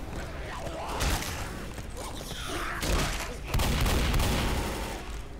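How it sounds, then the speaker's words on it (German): Guns firing at barrels in Left 4 Dead, several loud bursts and impacts with clanking, creaking metal in between, fairly close, with voices talking in the background. "Oh, werden die auf die Fässer geschossen."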